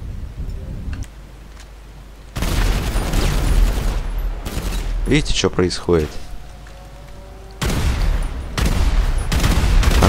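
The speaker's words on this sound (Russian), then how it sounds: "Если мы будем стрелять во что-нибудь, то что-то будет взрываться." Explosive ammo in GTA 5 with the Menyoo mod, bullets bursting on impact: repeated loud blasts and rapid gunfire bursts in several clusters, with someone talking over the action.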